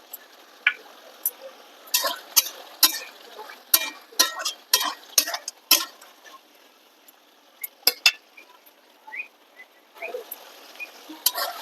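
Goat meat curry mixed with chilli powder, garam masala, green chillies and a little sugar is stirred in a pot, giving irregular metallic scrapes and clinks that come in short clusters.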